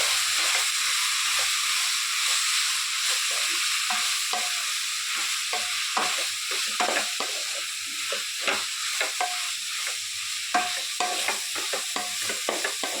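A spoon stirs and mixes food sizzling in a hot pan, a steady frying hiss broken by many short scraping and clinking strokes, close up with no talk.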